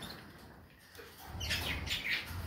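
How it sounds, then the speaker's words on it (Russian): Pet canaries chirping during bird selection and transport, giving faint, soft high tweets against a noisy, hissy room background, with no one speaking. "перед нами канарейки"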